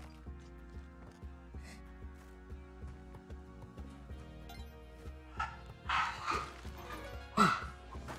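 Cartoonish dog barks and yips from Spelunky 2 break out over steady game music, a few sharp bursts coming near the end.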